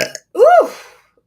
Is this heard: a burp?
yes